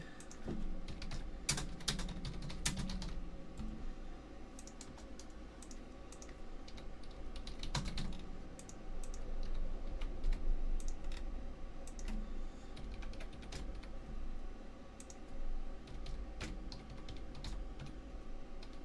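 Close, steady typing on a computer keyboard while a name is entered into a WooCommerce checkout form, with quick irregular clicks and occasional louder key strikes over a faint room hum.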